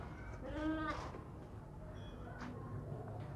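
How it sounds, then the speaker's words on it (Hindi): A tall, long-bodied sheep of a long-eared breed, kept for Qurbani, gives one clear, close bleat. Quieter farmyard background noise follows it. "माशाल्लाह बहुत ही ऊंची लंबी खूबसूरत भेड़ है"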